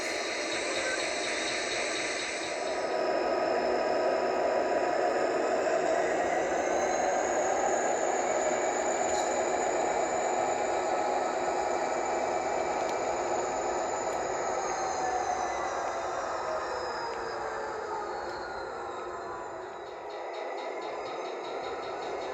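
An ESU sound decoder on a model railroad layout plays SD40-2 diesel locomotive sounds, a steady droning rumble with a faint high whine that rises and falls, heard alone with no talk.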